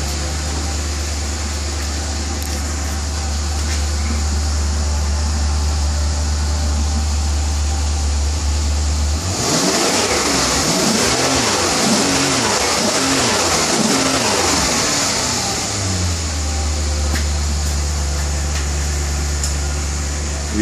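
A Maserati coupe on its stock exhaust idles with a deep low rumble, then revs for several seconds with a rising, throbbing engine note before settling back to idle; steady background hum throughout.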